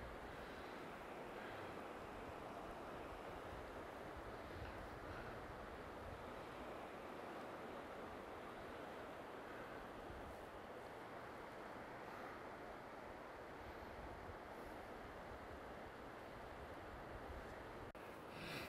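Floodwater from the Muskegon River in Evart, Michigan, running fast over a road, heard as a constant, dense rushing roar with steady intensity and some wind buffeting the microphone.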